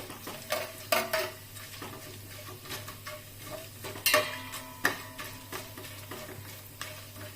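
Whole cloves, green cardamom and black peppercorns sautéed in a pan for vegetable pulao, giving a soft sizzle with scattered stirring scrapes and sharp clicks of the spoon, close and moderately quiet, with no talking.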